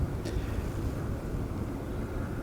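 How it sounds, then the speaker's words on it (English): Wind blows across a fishing lake at Barston Lakes during a match, a steady broadband rush buffeting the microphone with a constant low roar and no speech. "this wind's starting to pick up a bit now"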